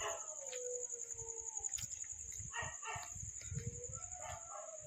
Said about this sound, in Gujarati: કૂતરાઓનો અવાજ આવી રહ્યો છે મિત્રો.